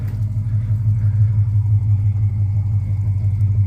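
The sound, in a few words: 392 swapped Dodge Charger engine revving, long tube headers, no cats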